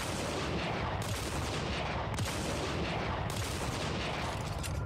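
Four-barrel Bone Duster shotgun in Bulletstorm, heavy booming blasts in close succession over a dense roar of battle noise, loud and near.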